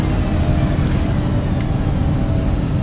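Airliner engines roar in reverse thrust during the landing rollout in X-Plane 11, a loud, continuous low rumble without pauses.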